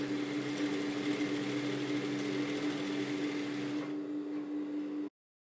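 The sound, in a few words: sewing machine stitching a French seam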